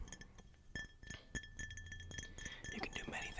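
Resonant tapping on assorted glass objects for ASMR: close, crisp clinks and taps in an irregular run, some ringing with small bell-like pitches, over a soft background hiss.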